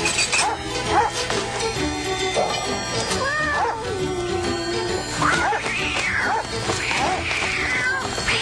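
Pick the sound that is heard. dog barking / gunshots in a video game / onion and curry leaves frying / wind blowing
dog barking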